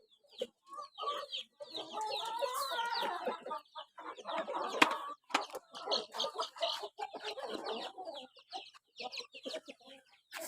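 Several Burmese gamecocks cluck and squawk close by at evening feeding in a busy, overlapping chatter that keeps going with brief pauses.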